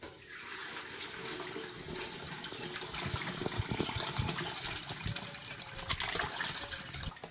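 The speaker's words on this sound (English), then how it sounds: "I don't know how much this is going to splatter, but here we go with our first try of pouring." Homemade chicken broth is poured for canning, a continuous splashing, gurgling stream of liquid that grows a little louder and more uneven toward the end, with no speech.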